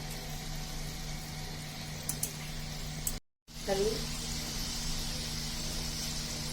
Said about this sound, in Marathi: एकदम मस्त गोल्डन असा कलर येईपर्यंत या तळून घ्यायच्या आहेत